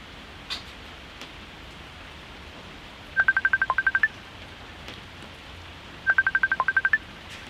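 Two quick bursts of telephone keypad tones sound, each a rapid run of about nine evenly spaced beeps, clear over a quiet room background with a faint click before them.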